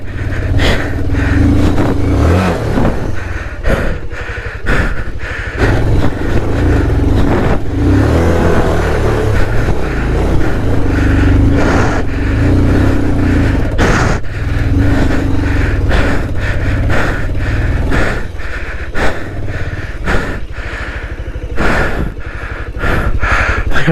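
Off-road motorcycle, a Pulsar 220F, revving hard while climbing a forest hill on the Munnar to Vattavada trail, loud and close with a rough, fluctuating engine roar and bursts of throttle throughout.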